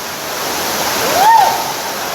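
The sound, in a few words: Somerset Falls waterfall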